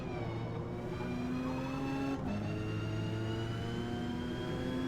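A Mazda RX7 racing in A class at Maple Valley in Forza Motorsport holds a loud, steady high-revving engine drone, dipping briefly partway through as it shifts gear, then climbing again.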